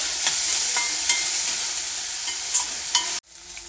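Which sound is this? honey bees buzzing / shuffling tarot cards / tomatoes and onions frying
tomatoes and onions frying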